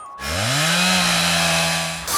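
A chainsaw revs up and holds a loud, steady whine for about two seconds before cutting off, with no voices over it.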